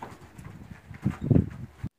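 A horse's hooves clip-clop during a training session, a few soft irregular steps building to a louder thud near the end.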